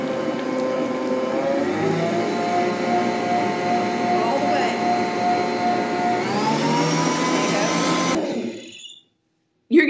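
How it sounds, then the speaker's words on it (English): An electric mixer beats old-fashioned divinity candy for pecan log rolls, a loud steady whirring drone with a constant pitch that shifts slightly as the mixture stiffens, then cuts off abruptly near the end. "You're going to beat it till it doesn't look as glossy anymore."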